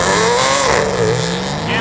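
Race cars roaring at Seekonk Speedway spectator drag racing, a loud continuous engine drone with shifting pitch, under a track announcer's voice.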